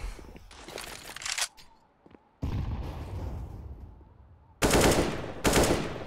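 Counter-Strike gunfire on the Nuke map: bursts of rapid automatic shots crackle in, drop to near silence, then return as loud sustained firing and further heavy bursts, close and harsh.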